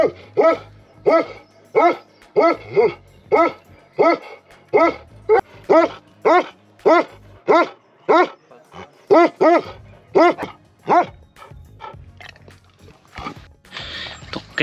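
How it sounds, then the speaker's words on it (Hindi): Dogs bark repeatedly near a rural Pahadi hillside home along a footpath, a steady run of loud, evenly spaced barks that continues throughout with no talking. "अच्छा उधर डॉग्स आ गए।"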